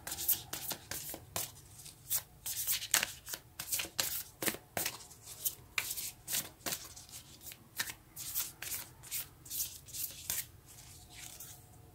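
A deck of moonology oracle cards is shuffled near and clearly, with crisp riffling flutters and soft taps repeating in quick uneven bursts, alone without speech.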